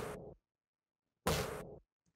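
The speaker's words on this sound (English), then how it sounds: "One is a distorted snare, another one is a distorted with reverb snare" Two distorted, processed snare drum hits, one dry and one with reverb, each a loud, short, crunchy burst separated by about a second of silence.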